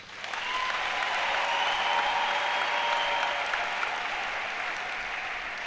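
A church congregation applauds to acclaim Jesus during a sermon, a dense, sustained wave of clapping that swells in quickly and holds steady for several seconds, full and close with no voices rising above it.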